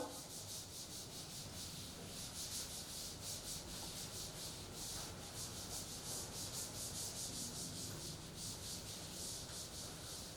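Steady, scratchy rubbing of an eraser across a classroom board, repeated quick back-and-forth strokes in a continuous rhythm, fairly close and soft, with no talking.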